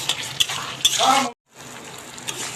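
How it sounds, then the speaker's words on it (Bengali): Spices fry in a pan for a fish-head muri ghonto, a close sizzle with metal stirring clinks, a sudden brief silence, then a quieter sizzle resuming. "মশলা আমাদের ভাজা ভাজা করে নেবে"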